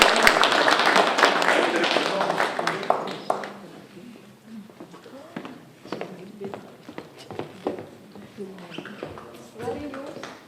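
Audience applause at a book presentation event in Dvīte bursts loud and dense at first, then thins into scattered claps as a voice speaks over the fading clatter.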